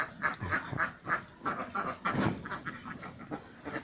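Khaki Campbell laying ducks on a farm quack in a busy, overlapping chorus, with repeated nasal calls from several birds close by and no talking.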